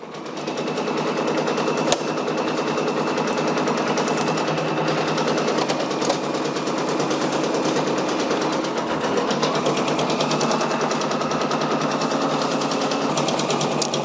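Brother SE625 embroidery machine stitching with black thread, a fast, even mechanical rattle that holds steady and loud across the whole stretch, with occasional sharper ticks.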